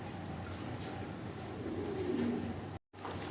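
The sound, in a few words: Budapest pigeons cooing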